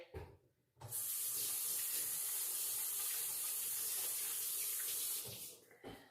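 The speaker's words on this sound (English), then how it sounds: "I'm going to wash my hands, guys." A tap runs steadily into a kitchen sink for hand washing, a broad close hiss that starts abruptly after a quiet moment, holds for about four seconds, then stops.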